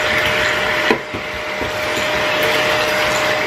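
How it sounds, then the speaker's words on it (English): A vacuum cleaner runs continuously, sucking up spilled baking powder inside an oven, a steady loud drone with a brief bump near the start as the nozzle shifts. "I'm just gonna vacuum up the baking powder"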